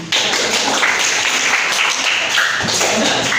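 A classroom full of students claps together in a dense, steady burst of applause that holds at full loudness for about three seconds, with no one talking over it.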